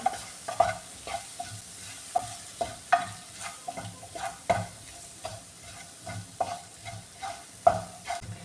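Tomato sautéing in a pan while a spoon stirs it, with a soft sizzle underneath and repeated scraping strokes against the metal at an uneven, unhurried rhythm.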